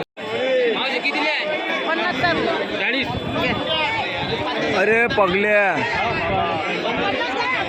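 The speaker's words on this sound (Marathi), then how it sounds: "गर्दी" Crowd chatter from devotees queuing at the Shri Sant Gajanan Maharaj temple in Shegaon, a dense, continuous babble of many overlapping voices close around, steady throughout with individual people calling out.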